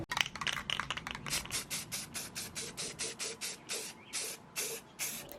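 Spray paint hisses onto a decorative pumpkin in a series of about a dozen short, even bursts with brief pauses, close and fairly loud, and no voices.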